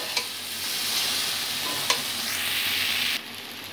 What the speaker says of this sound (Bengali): সবজিটাকে লো ফ্লেমে আমি বারবার করে নেড়ে চেড়ে ভেজে নিচ্ছি।